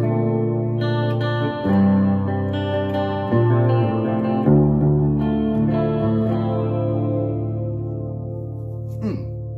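A small practice guitar amp plays clean sustained chords through chorus, flange, phaser and tremolo modulation effects, loud and shimmering with swirling, wavering tone and a ringing decay, no talk over it.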